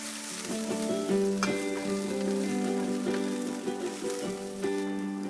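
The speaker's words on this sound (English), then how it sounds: "Mushrooms and broccoli. Saute for 2 to 3 minutes." Mushrooms and broccoli sauté in a pan with a soft, continuous sizzle, while a sustained tonal hum runs underneath throughout.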